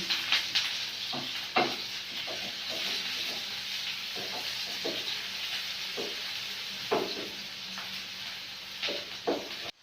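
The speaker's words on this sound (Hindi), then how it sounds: "प्याज को हम फ्राई करेंगे।" A small onion frying in hot oil for an aloo anday breakfast dish, with a steady sizzle broken by repeated scraping, stirring strokes of a spoon in the pan, close and fairly quiet.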